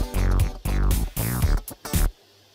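Upbeat party song playing loud and full-range in short bursts with brief dropouts, then cutting off abruptly into near silence.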